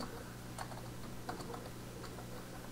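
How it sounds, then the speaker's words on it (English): Quiet, close keystrokes on a computer keyboard entering a command in the Windows 8.1 command prompt, an uneven tapping run with a steady hum beneath. "So I'm going to type net/user, the user's name, /comment, colon."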